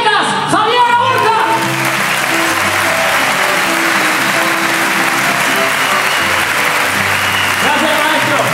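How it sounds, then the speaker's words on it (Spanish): Loud, sustained applause from a large crowd at a Mexican music evening, steady clapping filling the space with some cheering mixed in. "Tenemos a un grande que le vamos a dar un fuerte aplauso en solitario para el Miguela del Mariachi Zacatecas"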